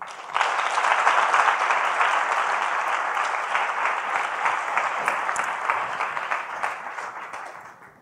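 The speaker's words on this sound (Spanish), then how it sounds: "Un fuerte aplauso para ella." Audience applause at a science-and-music event honoring a scientific director, a full steady round of clapping from a seated crowd that swells quickly and tapers off over eight seconds.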